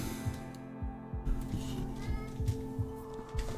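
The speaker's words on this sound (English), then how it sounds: "My cat is just being silly back there." A pet cat meows repeatedly in the background, soft and somewhat distant, a series of short cries over a low hum of game music.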